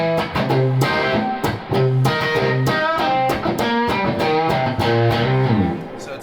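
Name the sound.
clean electric guitar through a Deluxe Reverb amplifier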